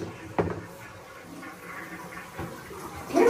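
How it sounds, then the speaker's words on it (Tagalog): A household toilet flushes in a bathroom during a family trip. Low watery gurgling and rushing builds to a louder surge near the end, heard at close range. "Could you help me flush?"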